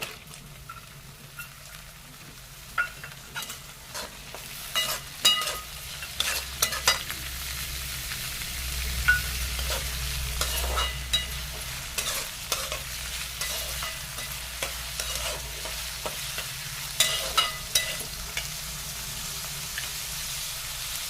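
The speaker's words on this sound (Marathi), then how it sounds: "कांदा चांगला भाजलेला आहे" Chopped onion fries and sizzles steadily in a pan, with scraping stir strokes breaking through at irregular intervals; the texture is close and even, with no one talking.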